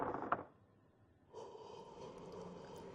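Creepy breathing in a basement in the Hello Neighbor video game: a sharp, close gasp or snort, then a low, quiet ambient hum as the breathing continues faintly.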